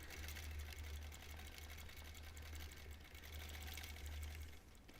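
A quilting machine stitches a Double Wedding Ring quilt topper, its steady rapid needle hum running close and loud without a break, dipping briefly near the end.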